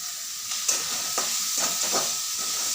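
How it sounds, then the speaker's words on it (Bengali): Onion, ginger and garlic frying in a wok, a continuous bright sizzle with a few stirring scrapes and crackles over it, close and steady, with no talk. "বেশ কিছুক্ষণ পেঁয়াজ আর আদা রসুন একসাথে ভেজে নেওয়ার পর"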